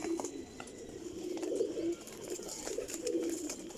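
Pigeons coo softly in low, throaty repeated phrases, with faint ambient noise in the background.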